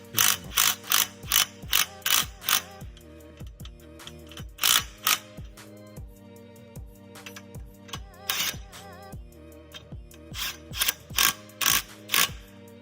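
A ratchet wrench tightening bolts on Maverick stands clicks in repeated bursts of rapid, loud pawl ticks, with short pauses between runs of cranking.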